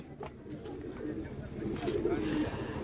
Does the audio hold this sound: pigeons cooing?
yes